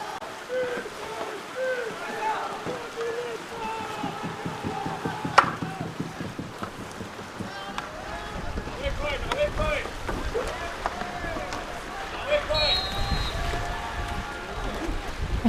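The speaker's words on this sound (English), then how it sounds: "the wind is also picking up, so you might hear some wind sounds" Steady wind gusting over open water at an outdoor canoe polo world championship match, with a commentator talking throughout and occasional paddle splashes and distant crowd noise beneath.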